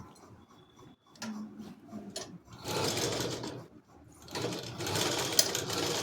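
A sewing machine stitches a child's body skirt during a tailoring class. It runs in a few short starts, then in longer steady bursts of rapid mechanical whirring, close and fairly loud, with no talking.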